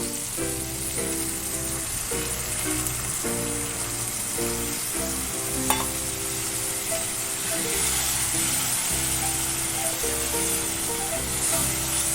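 Spiced jackfruit for achari echor fries in a pan after a splash of water, giving a steady hissing sizzle throughout, partly masked by louder background music.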